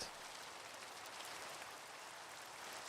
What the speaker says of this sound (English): This is the rain, chat.